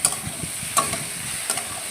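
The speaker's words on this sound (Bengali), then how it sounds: "আলুগুলো আমি তুলে দেব ওই কষানো মশলায়, দিয়ে ভালোভাবে নেড়ে চেড়ে তারপরে আমি ওই আলু আর মশলার ভেতরে এঁচড়টা দিয়ে দেবো।" Potatoes are stirred into a frying spice paste ahead of young jackfruit for a jackfruit and prawn curry, with a soft steady sizzle and a few scraping stirs of the spoon.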